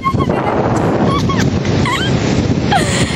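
Steady rushing sea surf and strong storm wind fill the scene, with a few faint high whistling or whimpering calls scattered over the top.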